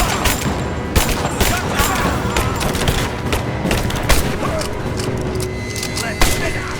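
Heavy gunfire in the action game Rise of the Tomb Raider, continuous volleys of shots and booms with sharp cracks standing out, close and loud over a busy battle din, with shouting voices mixed in.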